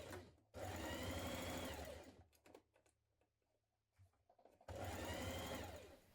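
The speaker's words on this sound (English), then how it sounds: "Now pin your underarm seam like this, matching the notches. Sew with a 1 centimetre seam allowance." A sewing machine stitches the underarm seam of a jacket, with two steady, close runs of rapid mechanical whirring separated by a quiet pause filled with fabric handling.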